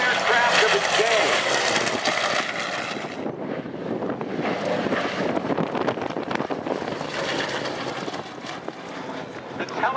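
Vintage fighter aircraft flying at the Thunder Over Michigan airshow, a loud engine roar that dips briefly, then builds again, with wind buffeting and an announcer speaking over the noise.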